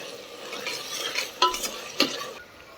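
Ground spice paste sautéed with onion for sambar crackles softly in a pan, with two sharp metallic scrapes of a spoon against the vessel and a light ongoing sizzle underneath.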